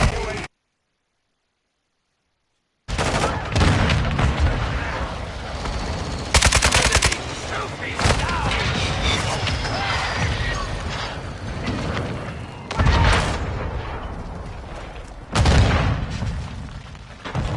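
Loud video game firefight, a brief silence giving way to continuous rattling gunfire punctuated by several heavy booming blasts from grenade explosions at intervals, all dense and close.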